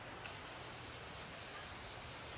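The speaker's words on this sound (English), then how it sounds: "Just spray down a light coat over the whole engine that's underneath the cowling" Aerosol corrosion protectant hisses in a continuous spray over a Yamaha outboard engine under its cowling, a steady close broadband hiss with no pauses.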